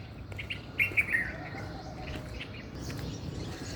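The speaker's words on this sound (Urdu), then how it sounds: "صبح صبح میں نے دیکھا ہے کہ اکثر بڑے پرندوں کی آوازیں آ رہی ہوتی ہیں" Birds calling near a park on a morning walk, a few short chirps standing out early over steady low outdoor rumble and faint background noise.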